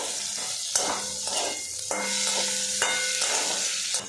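Spiny gourd (kakrol) fries in oil in an uncovered pan while being stirred now and then, a steady close sizzle broken by sharp scrapes and clinks of the spatula against the pan.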